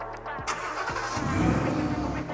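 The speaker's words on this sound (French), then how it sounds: "Démarrage à la clé à distance" Ford F-150 Raptor Shelby truck starting by remote key: starter cranks briefly, then the engine catches with a deep rumble and settles into a loud, steady idle nearby.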